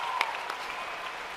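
A short burst of audience applause for a school, steady clapping at moderate level through the whole moment with no talk over it.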